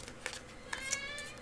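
A kitten gives a few short, faint meows in a quiet room, with brief high tonal calls scattered across a second and a half.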